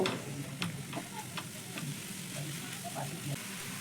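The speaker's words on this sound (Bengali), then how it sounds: "এবার গ্যাসের ফ্লেমটা একটু বাড়িয়ে দিয়ে সব মশলা মিশিয়ে নেব।" Grated vegetable stuffing with spices stir-fried in a pan over a raised gas flame, with a steady low sizzle and soft, irregular scraping taps of a spatula close by.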